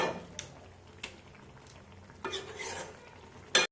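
Tomatoes being smashed in a pan while cooking tomato gojju, with soft scattered scraping and tapping knocks, a brief louder burst of sizzle-like mashing, and a sharp clank at the end.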